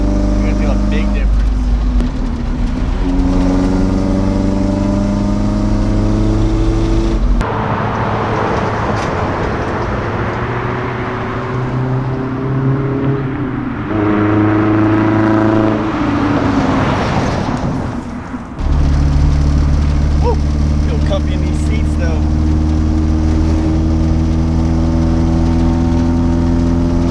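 An SR20-swapped Nissan 720 mini truck drones loudly as it pulls through fourth gear in traffic, the engine note rising steadily, dropping at shifts and climbing again, close and dominant throughout with occasional talk beneath.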